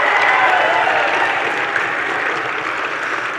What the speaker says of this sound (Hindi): मैं पहले विपक्ष वाले जो है सभी साथियों के लिए एक जोरदार ताली चाहता हूं सबकी।